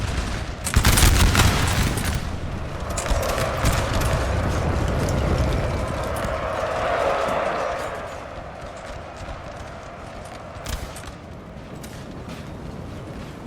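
Battle in the Napoleon Total War video game, with Saxon artillery booming and massed musket volleys crackling, a sharp blast early on followed by sustained rumbling gunfire that gradually eases into scattered distant shots.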